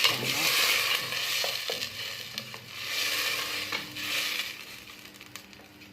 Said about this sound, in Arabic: راح نحط البصل والثوم تاعنا. خليهم يتقلاو هكا مع الدجاج